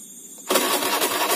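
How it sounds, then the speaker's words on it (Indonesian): A Honda Beat scooter engine cranks and catches after a half-second of quiet, then runs with a loud, close, buzzing putter. "Kita hidupkan dulu mesinnya."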